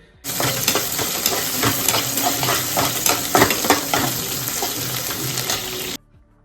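Green chillies frying in a pan, giving a steady, close sizzle with scraping stirs. It starts abruptly, holds for several seconds, then cuts off.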